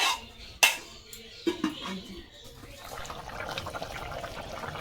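A metal lid clanks sharply onto a cooking pot on a home stove, one loud close knock followed by a smaller rattle, then soft simmering and kitchen clatter.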